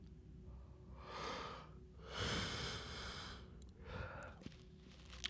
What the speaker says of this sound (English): Sorry for all the yawning, guys.